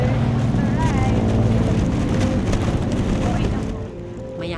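A boat engine drones steadily as the vessel moves through water, with a muffled voice mixed in before the noise drops slightly near the end.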